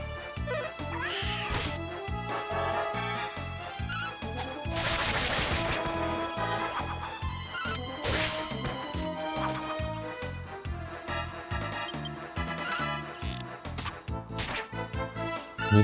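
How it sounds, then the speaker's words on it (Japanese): Dense game music from Dragon Quest VIII on PS2 plays throughout, with repeated battle hits and crash effects as a sleeping cat enemy is attacked. "寝てるにゃんこに攻撃してるよ"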